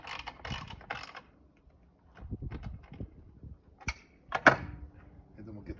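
A ratchet wrench tightens the blade bolt on a 10 inch chop saw, giving faint, close clicking with scattered metallic taps, with someone speaking quietly around it.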